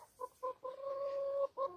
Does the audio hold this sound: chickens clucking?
yes